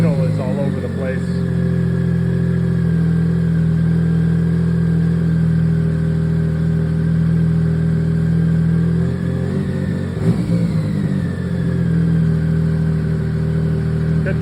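A BMW K75 motorcycle engine idling unevenly, a loud close steady drone whose pitch wavers and dips, with a brief revving flutter near the end.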